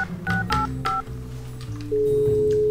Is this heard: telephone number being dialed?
yes